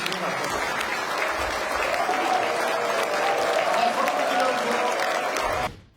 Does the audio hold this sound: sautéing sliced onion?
no